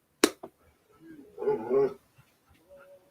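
A dog whimpers and yips indoors in soft, broken bursts, with a sharp click at the start and a longer whine in the middle, fairly faint with quiet gaps between sounds.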